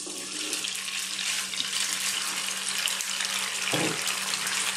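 Tofu frying in sunflower oil in a wok, a steady bright hiss and crackle of oil sizzling throughout, close and even, with a brief soft knock near the end.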